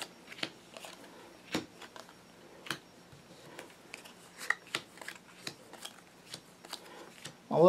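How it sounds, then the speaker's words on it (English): Target cards for a card game are shuffled by hand in a steady run of crisp riffling bursts, close and clear, with short quiet gaps between them. "And you're going to shuffle up the target cards."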